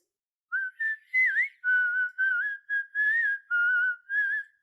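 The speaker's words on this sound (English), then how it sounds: "Starts whistling to try and liven up the mood." A person whistles a bright, lilting tune of about nine short phrases with brief gaps, close and clear against near silence.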